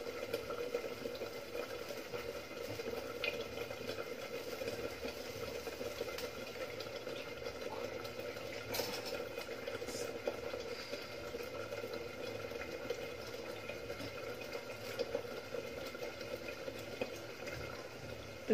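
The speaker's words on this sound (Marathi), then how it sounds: "तर ग्रेव्हीला उकळी आलेली आहे." Brinjal masala gravy at a boil in a pot, giving a steady, continuous bubbling hiss that stays even and moderately close throughout, with no talking.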